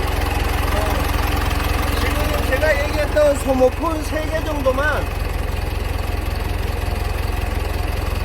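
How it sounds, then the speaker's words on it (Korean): The diesel engine of a 3.5-ton refrigerated truck idles with a steady low rumble and rhythmic knock, while someone speaks over it for a few seconds. "엔진 소리도 굉장히 양호하게 들립니다."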